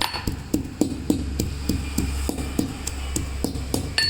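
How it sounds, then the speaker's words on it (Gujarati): Garlic pounded by hand in a village kitchen, a steady run of sharp, evenly spaced thuds about twice a second, close and fairly loud, with no talking. "લસણ આમાં ખાંડી લેશું."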